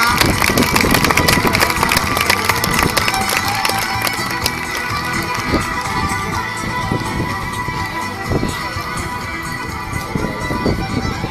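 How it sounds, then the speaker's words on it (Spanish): Loud, sustained applause from an outdoor audience at a falconry show, clapping dense and continuous for the whole stretch with crowd noise mixed in. "Creo que podemos darle un fortísimo aplauso a Bruja"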